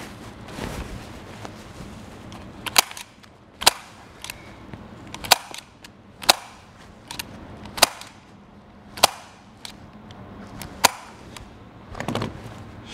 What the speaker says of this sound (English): I'll take my stapling gun.